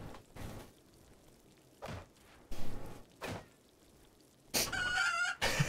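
Chickens in the colony-building game Rimworld cluck in several short separate bursts, with a louder, busier stretch of game sound near the end.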